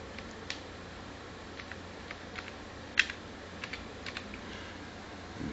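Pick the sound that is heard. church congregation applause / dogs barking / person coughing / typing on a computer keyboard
typing on a computer keyboard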